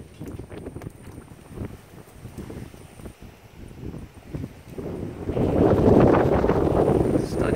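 Gusty wind blowing outdoors in the aftermath of Hurricane Irma, rough buffeting against the microphone that swells louder toward the end.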